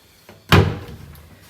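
A small laundry chute door in an old house bangs shut with a single sharp wooden thud, preceded by a faint creak of movement, then a short fading rattle.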